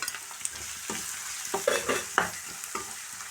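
Sliced onions frying in a pan with spices while being stirred, producing a soft continuous sizzle broken by several close scraping and clinking spoon strokes against the pan.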